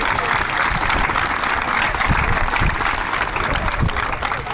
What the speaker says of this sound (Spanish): Un aplauso para cada uno de ustedes.